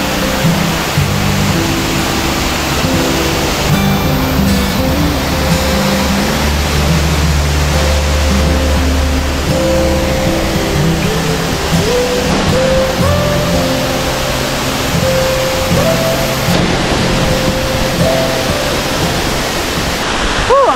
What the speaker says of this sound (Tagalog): Ang tunog ng dumadaloy na tubig ay sobrang nakakatanggal ng pagod.